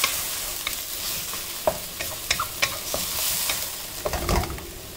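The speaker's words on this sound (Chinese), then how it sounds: "把它炒匀。" Minced pork and eggplant stir-fried in a wok, soy sauce and pepper just added, with a soft steady sizzle broken by repeated scraping and clacking strokes of the spatula against the pan.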